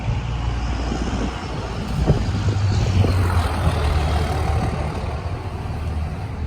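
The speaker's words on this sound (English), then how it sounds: "Stupid noisy truck." A noisy truck passes by on a suburban street, a low continuous engine rumble and road roar swelling and lingering at moderate distance, with no talking.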